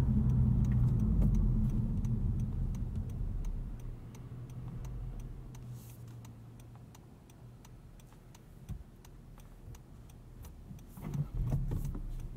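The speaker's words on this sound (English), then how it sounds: "It has kind of a throaty growl at low revs." A 2022 Honda Civic Si engine gives a low, throaty growl at low revs, steady and fairly close, fading a little midway before swelling again near the end with faint ticking over it.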